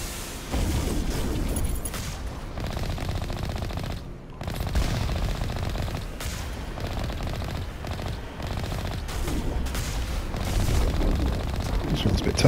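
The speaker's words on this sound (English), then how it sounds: "Bloody rockets." Rockets and heavy weapons fire in Mass Effect Legendary Edition combat, a dense continuous barrage of booms and rattling shots with only a brief lull, loud throughout.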